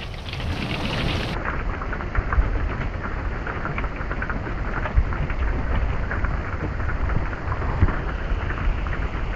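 Pea-size hail pelting the roof of an older RV, a dense loud clatter of countless small impacts with occasional harder thuds, continuous throughout and no voices.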